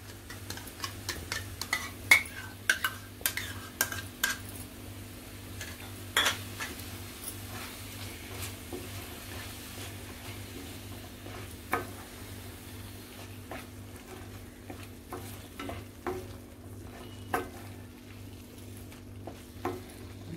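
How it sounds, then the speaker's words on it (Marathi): Masala mixed with curd cooks quietly in a pan, a faint low sizzle under scattered sharp clicks and taps of a spoon stirring against the pan. "तेल सुटेपर्यंत आपला हा चांगला मसाला शिजवून घ्यायचा आहे 2 मिनिटं तरी झाकण ठेवून"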